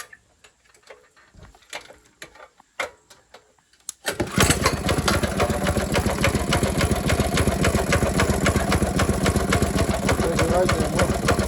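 A small engine fitted with VM22 clone carburetors starts after a few seconds of quiet clicks and then runs steadily through its muffler, loud and close, with a fast, even putter for the rest.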